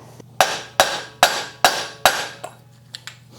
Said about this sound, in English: It takes a little while to get it seated in properly, and you don't want to damage it when you're hammering on this thing.